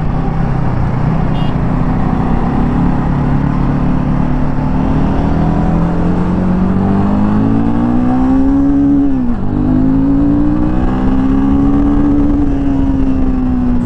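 A 2024 Royal Enfield Himalayan 450 motorcycle accelerates hard on the road, its engine note climbing steadily in pitch, dropping briefly at a gear change, then pulling again, loud and close, with rushing wind and no speech.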